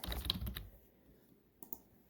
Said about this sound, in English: I'm typing some notes while I'm doing this